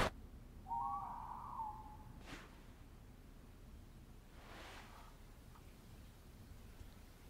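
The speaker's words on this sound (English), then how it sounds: "I think I just heard an owl." An owl gives a single soft hoot early on, faint and distant against quiet background hiss, followed by a couple of brief rustling sounds.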